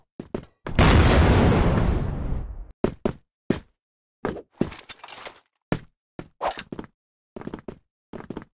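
A smoke grenade goes off in the shooter game CrossFire, giving a loud hiss-burst of about two seconds, followed by a series of short sharp knocks and clatters, close and without talk.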